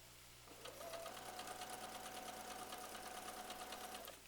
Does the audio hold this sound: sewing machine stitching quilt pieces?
yes